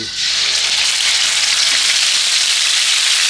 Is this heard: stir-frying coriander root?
yes